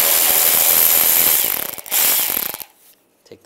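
A T20 socket ratchet clicks rapidly and loudly up close as it backs screws out from under a 1999-2005 Volkswagen Jetta, then stops and falls quiet near the end.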